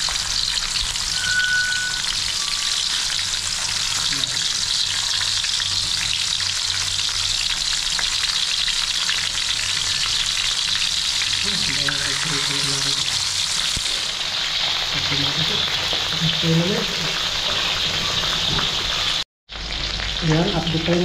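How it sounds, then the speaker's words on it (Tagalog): Fish, including black scabbard, frying in a pan with a steady, loud sizzle and crackle that runs almost throughout, with faint clatter partway through and a brief cut near the end. "Damihan na natin prito para makakain yung mga kasamaan dito."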